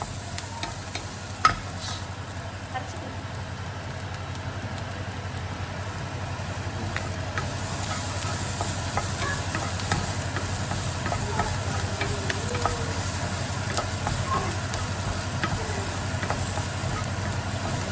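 Onions browning and sizzling in a pan while being stirred, a steady close frying hiss with scraping stirs, and a sharp knock near the start.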